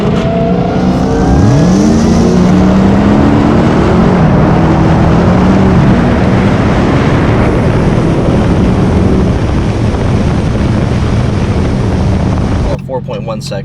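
A 2020 Dodge Challenger SRT Hellcat Redeye launched hard from a standstill, its supercharged engine roaring loud and close as it revs up through the gears, wheels spinning, with rising whine sweeping upward until a sudden cutoff near the end.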